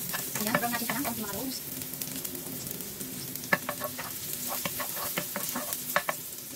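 Onions sizzle and fry in a hot pan at the start of a gising-gising recipe, a steady crackle with stirring scrapes and clicks of the utensil on top.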